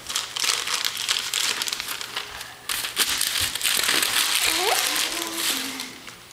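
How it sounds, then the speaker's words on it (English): Wrapping paper on a present crinkles and tears as a small child unwraps it, a steady rustling with sharper rips, while adults talk nearby and a voice pipes up. "unwrap it"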